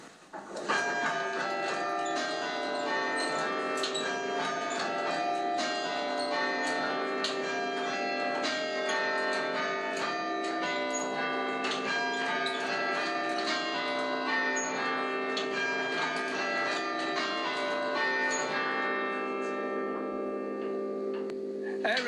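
Church bells at St Cuthbert's in Crook are struck by Ellacombe chime hammers, ringing out a rapid, continuous run of overlapping metallic tones that fade away in the last seconds.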